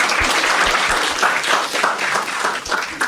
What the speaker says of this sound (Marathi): ठीक आहे एकदा टाळ्या वाजवा यांच्यासाठी